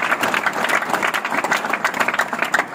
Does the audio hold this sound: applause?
yes